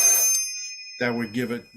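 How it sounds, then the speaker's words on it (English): A telephone rings with a steady electronic tone during an interview call, the ring continuing under a voice as he speaks over it, close and fairly loud. "that was the phone"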